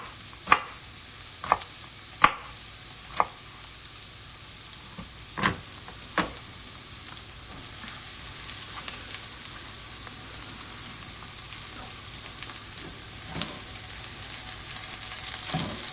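Eggplant and other vegetables sizzle steadily in a pan for ratatouille, a soft continuous frying hiss broken by a few sharp utensil taps and stirring clatters early on, with no talking.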